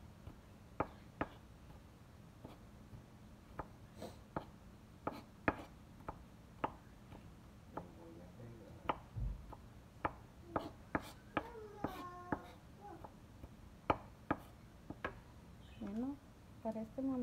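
A knife chopping garlic and onion on a cutting board in a home kitchen, sharp single taps at an irregular pace, close and fairly quiet, with a few brief voiced sounds near the end.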